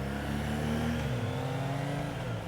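A Triumph Trident motorcycle in rain mode revving up, its pitch rising and shifting as it accelerates, close by with no talking.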